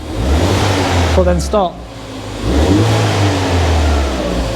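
A Ford Fiesta ST engine with noisy injectors revs up loudly, drops back briefly, then surges again at close range, with a voice speaking over it.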